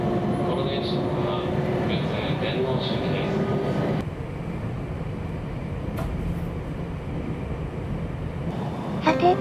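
A Hanwa Line local train pulls away from Higashi-Kishiwada station in the evening, heard from inside as a steady low rumble and hum that eases slightly partway through, with a voice talking over it.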